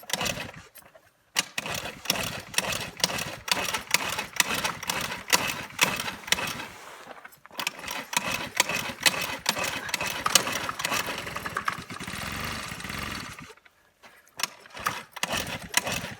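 A scooter engine burning methanol fuel runs loudly and raggedly, revving and sputtering with two brief cutouts before catching again, close by with no talk.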